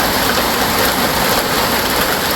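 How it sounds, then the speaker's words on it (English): Rain pours down in a dense, loud, unbroken hiss, close by and steady throughout, with nothing else standing out. "it's just rain right now, but it might hail"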